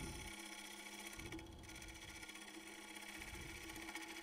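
A machine spindle runs at a steady speed with a faint, low drone and a slightly throbbing vibration that pulses roughly every second, carrying on alone without any voices.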